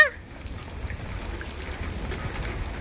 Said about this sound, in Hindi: बहुत तेज बारिश आ रही है